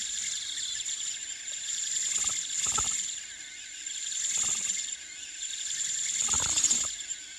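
Propless drone on a Matek F405 AIO flight controller with a gyro fault, motors giving a thin high steady whine with brief irregular twitching bursts and surges.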